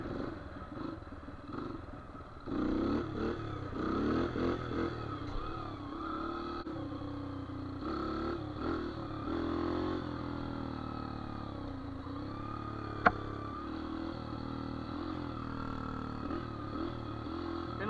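A dirt bike engine runs and revs while being ridden during wheelie practice on an incline, with a steady buzzing drone that rises and falls and a sharp click partway through.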